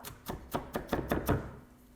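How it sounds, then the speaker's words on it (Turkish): Knife chopping an onion on a cutting board, six or seven crisp, evenly spaced thuds in quick rhythm, then fading to quiet. "Şimdi acılı barbunyalı fasulye için soğanımı doğrayacağım."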